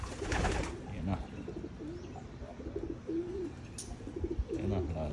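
Racing pigeons coo in short, throaty rolling phrases near a loft, repeated several times over outdoor background noise.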